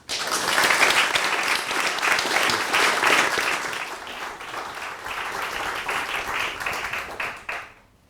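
An audience bursts into sustained applause to welcome a speaker at a Yale lecture, dense clapping holding steady for several seconds before quickly dying away.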